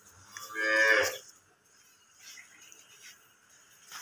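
A dairy cow on a farm gives a single mid-distance moo lasting about half a second, followed by quiet, faint outdoor background.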